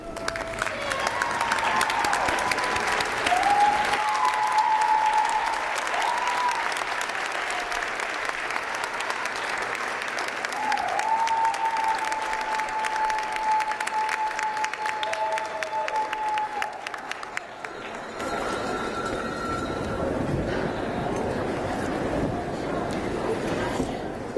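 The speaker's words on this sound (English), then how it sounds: "join me in a round of applause to honor those who have supported you" Sustained round of applause from a large commencement ceremony crowd honoring the graduates' families and supporters, broad steady clapping filling the hall for over twenty seconds with faint crowd noise.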